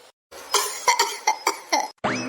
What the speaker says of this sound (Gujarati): એકદમ ઉધરસ આવે છે શરદી થઈ ગઈ